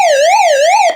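A Raddy RE40 portable shortwave radio's built-in electronic siren wails up and down in a fast repeating sweep, loud, close and alone, cutting off abruptly at the end.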